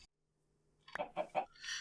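Chickens in Minecraft give a short run of three quick clucks after near silence, close and fairly soft, followed by a brief rustling tail.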